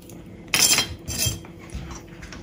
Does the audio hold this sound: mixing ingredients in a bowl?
yes